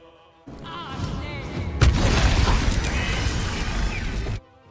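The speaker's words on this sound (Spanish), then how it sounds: "es el momento de la explosión" An explosion tears through a ship in a video game: a rumbling onset builds into a heavy blast, then a dense, roaring crash of debris sustains for a few seconds before cutting off abruptly.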